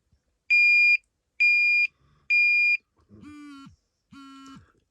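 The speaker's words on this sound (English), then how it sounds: "It did the audible alarm, the vibration alarm." A TOPTES carbon monoxide detector in an RV runs its calibration, sounding three loud, evenly spaced high-pitched beeps, then two lower buzzing tones from its vibration alarm, close up with silence between.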